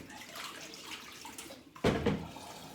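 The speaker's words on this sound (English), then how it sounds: "So if I pre-fill it now, it'll be ready. Just rinse around the sink a bit with it." Tap water briefly runs into a sink to rinse it around, a soft ongoing trickle that surges louder near the end, close by and with no talking.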